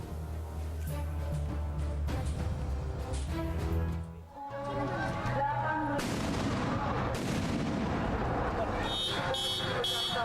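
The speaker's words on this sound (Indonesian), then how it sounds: "Kencangnya suara ledakan meriam ini membuat kaget warga hingga membuat alarm mobil di sekitarnya berbunyi." A traditional Ramadan mosque cannon fires a loud blast, followed by car alarms wailing nearby, with dense broadband noise and talk-like sounds running through.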